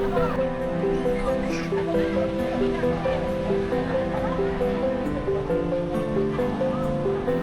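Steady wash of ocean surf rolling onto Pantai Kukup beach in Gunungkidul, a continuous even roar under a faint melodic tone and a lively beach crowd.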